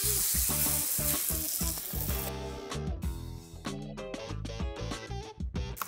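Steady crackling sizzle of zucchini pancake batter frying in a hot pan, continuous and close, with a rhythmic tonal backdrop running throughout.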